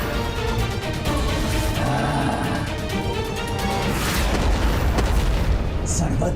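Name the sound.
explosions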